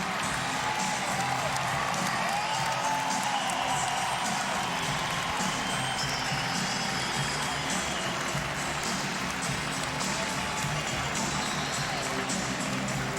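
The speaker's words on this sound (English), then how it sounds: "Champions applaud champions." Sustained loud applause fills Madison Square Garden after an exhibition tennis match between Roger Federer and Pete Sampras, a dense wash of clapping with scattered cheers and whoops, steady throughout with faint crowd voices underneath.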